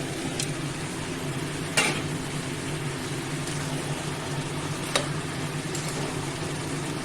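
A fish head fries in a pan of bottle gourd curry, giving a steady, even sizzle throughout, broken by a few sharp clinks of stirring.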